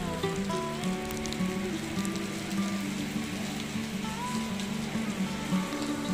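Heavy rain pours steadily at the Jagannath Temple in Dibrugarh, a dense, even hiss of drops drumming on surfaces close by throughout, with a faint tonal hum underneath and no speech.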